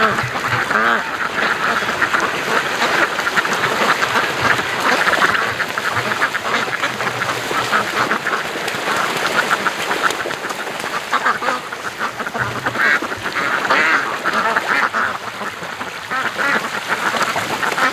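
A flock of ducks on a lake quacks continuously, a busy overlapping chorus of loud nearby calls that carries on for the whole stretch.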